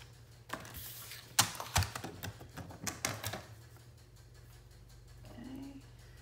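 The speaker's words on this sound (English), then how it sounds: "So I'm gonna take that off, trim that off, and then we'll score it." Paper being trimmed for a handmade shabby-style journal: a run of sharp snips and taps, some louder than others, clustered over a few seconds, then a quiet stretch of faint rustling with no speech.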